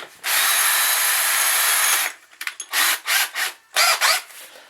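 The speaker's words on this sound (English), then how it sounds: "all I gotta do now, I'm gonna use my drill." A power drill whirs loudly and steadily for two seconds, then runs in several shorter bursts as it bores into the servo bore of a 5R55S transmission on a 2003 Ford Explorer 4.0.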